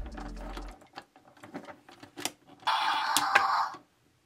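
A Transformers Armada Red Alert toy gun mechanism clicks and ratchets, a series of small plastic clicks followed by a louder grinding whir of gears, close up with no talking.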